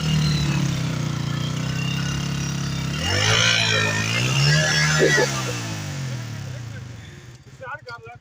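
A Chinese road-price 125cc motorcycle engine hums at a steady low idle, partly buried under loud nearby voices talking over it.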